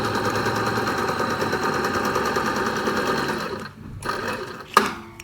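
A tailoring sewing machine stitching fabric, as for blouse lining, runs in a fast steady close rattle for over three seconds, then stops, followed by a few short clunks and a sharp knock.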